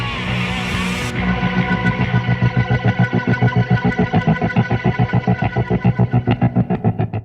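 Distorted bass guitar pulsing under a heavy, extreme tremolo, the notes chopped into steady throbbing beats that wobble on for several seconds.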